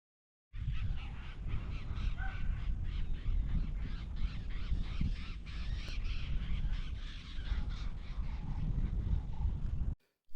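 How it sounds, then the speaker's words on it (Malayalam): Birds chatter and caw in a busy forest chorus in Rajaji National Park, India, crow-like calls repeating over a constant, rustling background. "പക്ഷികളുടെ കലപില ശബ്ദം നമ്മുടെ മനസ്സ് കുളിർപ്പിക്കും"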